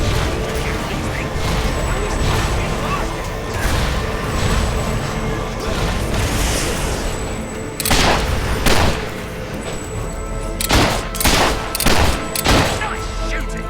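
Bursts of gunfire and booming blasts from the video game Fable 3 come in rapid clusters, with heavier volleys toward the end over a continuous game score.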